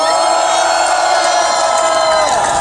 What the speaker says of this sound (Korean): 동의하시면 큰 박수와 함성을 질러주시기 바랍니다